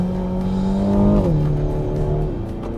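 A 2017 Renault Talisman TCe 200 petrol engine with a dual-clutch gearbox accelerates with a steady, whiny drone that holds, then drops in pitch at a gear change before droning on.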